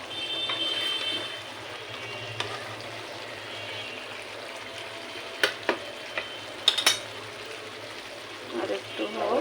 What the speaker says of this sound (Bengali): এই যে ছোলা বোনাটা আমার প্রায় হয়ে আসছে।